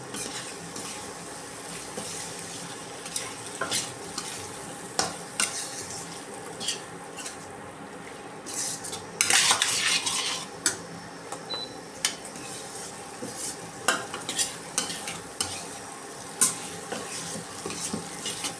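A chicken and capsicum mixture with cornflour slurry is stirred in a sizzling pan, a gentle hiss under irregular spatula scrapes and metal clinks, with a louder burst of scraping midway; close by and without talk.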